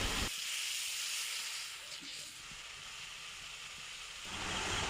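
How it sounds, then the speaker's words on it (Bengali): Spice masala with a splash of water stirred in a pan while cooking chicken with potatoes, giving a sudden steady hiss of steam and sizzle that runs for about four seconds, close and fairly soft, then cuts off. "মশলাটা দিয়ে একটু হালকা পানি দিয়ে নাড়াচাড়া দিয়ে নেব।"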